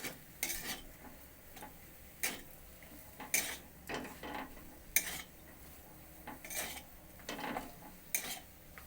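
Fried spice mix of cumin, coriander powder and dried chili being stirred into a bread chop filling, with scattered spoon-on-pot clinks and scrapes over a faint background, no voices.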